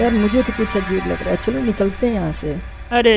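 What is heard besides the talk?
No everyday noise stands out behind the speech.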